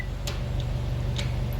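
A Subaru WRX STI's rear end gives faint, regularly spaced clicks while driving, ticking a few times over a steady low road and engine rumble.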